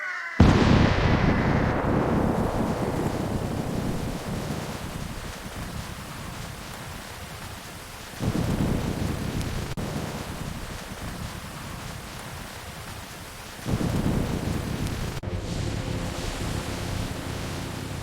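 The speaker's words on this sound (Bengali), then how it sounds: "অনেক বৃষ্টি হচ্ছে" Heavy rain pours steadily and loudly close by in a village, with a few deep thunder rumbles swelling in at the start and again midway, no voices heard.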